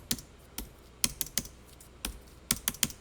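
Keys on a computer keyboard are struck in short irregular clusters of sharp, fairly quiet clicks, heard alone without any talking.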